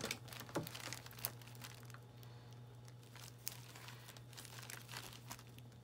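A vinyl-style outline sticker being peeled from its backing, heard as soft crinkling and faint tearing close by, with a steady low hum in the background.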